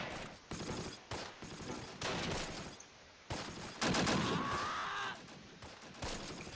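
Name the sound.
MG42 machine gun fire in video game Close Combat: Last Stand Arnhem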